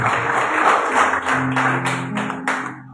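A church congregation claps together during a Spanish-language sermon on Psalm 51, a steady patter of hands over sustained low musical tones that taper off toward the end.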